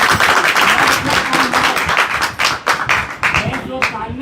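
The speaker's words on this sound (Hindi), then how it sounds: "और जोर से एक ताली लगाओ" Clapping from a small audience at a Hindi spiritual gathering in Amritsar, loud and close, with uneven sharp claps that thin into scattered individual hits toward the end, mixed with some voices.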